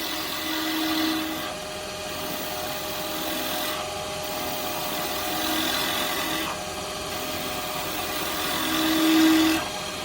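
Wood lathe turning a spinning top while a carbide tool cuts down the end, a steady close whirring hum with rough scraping and rasping of wood that swells and eases in repeated passes, no talking.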